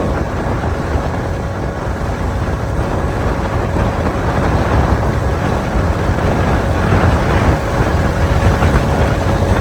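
An Ola S1X 4kWh third-generation electric scooter runs flat out near its top speed of about 81, with dense wind rush and road roar buffeting steadily around a faint constant motor whine.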